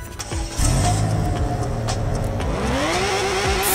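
Car engine revving in the Roblox game Car Crushers 2, a mid-pitched engine that rises and falls through a few short revs, close and steady, with no talking.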